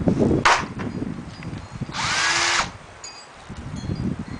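A power drill bores holes into pallet wood, with a short burst near the start and a longer whining run of a second or so mid-clip, between scraping and handling noises.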